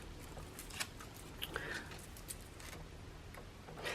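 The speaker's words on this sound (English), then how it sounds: "So we're going to use scissors." Scissors trimming thin card in a quiet room, a few small crisp snips and clicks scattered over a few seconds, faint and close.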